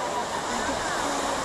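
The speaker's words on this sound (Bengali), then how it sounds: "বিশাল ঢেউ। না, মানে আসল জলটা অনেকটা, তো জল একদম এই সামনে থেকে ফাটছে বলে মনে হচ্ছে যেন অনেক বড় ঢেউ।" Big sea waves breaking close by at Digha beach give a steady, loud, broadband roar of surf and rushing water that fills the whole short stretch without pause.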